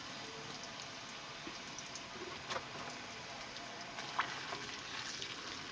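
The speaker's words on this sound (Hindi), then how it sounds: "प्याज अपने जो है वो फ्राई कर लेंगे" Chopped onions frying in oil in a pan, a steady faint sizzle with occasional soft stirring clicks, no talking.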